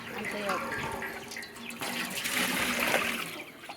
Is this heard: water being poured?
yes